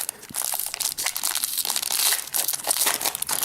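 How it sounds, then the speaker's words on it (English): Protective plastic film is peeled off a Kindle Fire HD 7-inch tablet, heard close up as loud crinkling and crackling with quick tearing rustles and no voices. "Sans the plastic, so let's peel that off."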